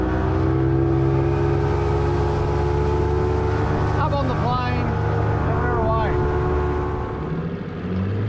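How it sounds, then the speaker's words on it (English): An Evinrude G2 marine outboard motor runs on a boat with a steady, throaty low rumble and chug, loud and close, with wind and water noise and a brief faint whine partway through. "it's just got that chug, chug, chug, like real throaty chug, chug, chug sound"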